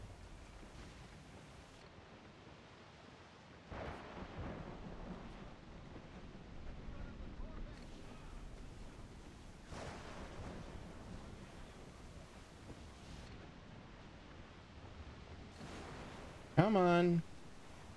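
An ocean wave rolls and surges in the pirate-era sailing game Assassin's Creed IV Black Flag, a broad rushing wash of surf and wind that swells midway and stays steady, with someone speaking briefly.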